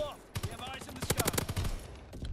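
Gunfire in Call of Duty WW2, a rapid burst of automatic shots in quick succession, loud and close, with a voice briefly heard before it.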